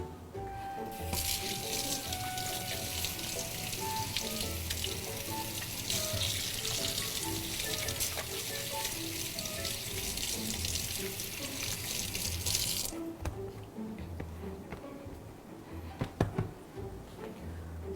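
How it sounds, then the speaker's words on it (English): A kitchen tap runs for about twelve seconds as hands are rinsed, a steady close splashing hiss over a background of faint sizzling and clatter that continues after the water stops. "so make sure you rinse before you fry. Rinse your hands"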